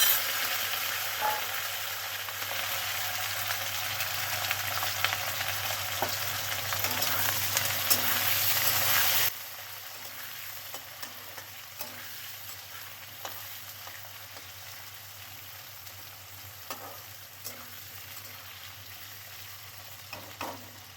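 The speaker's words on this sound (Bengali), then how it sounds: "এবার দেবো আলু টুকরো করে গেছিলো কচি, আমি ভালো করে ভাজবো।" Potato pieces frying in a pan, a steady loud sizzle with occasional stirring clicks that drops noticeably in level partway through and continues more quietly, with no talking.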